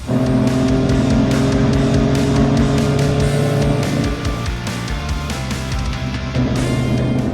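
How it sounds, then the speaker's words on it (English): A Ford Raptor pickup truck speeds down a dirt road at about 82 mph, its engine droning loud and steady with constant road and tire rumble and a slight dip in intensity midway. "we're going, what, 82 miles an hour down a dirt road"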